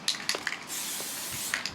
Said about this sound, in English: so we thought we'd spray it